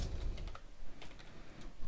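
Quick, uneven clatter of keys on a computer keyboard as someone types, close and soft, in short bursts over a low background hum, with no voices.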